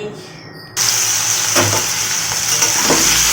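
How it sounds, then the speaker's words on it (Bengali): Potatoes frying in a pan in a home kitchen: after a brief quiet moment a loud, steady sizzle bursts in and keeps hissing close by, with faint clinks of stirring. "তো চলো আলুগুলো আগে ভাইজা লই"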